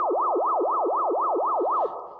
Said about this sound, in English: I can almost get a police car sound out of it that way